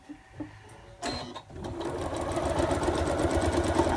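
A sewing machine starts with a few short bursts, then runs steadily and close by, stitching through a quilted pot holder in a fast, even chatter.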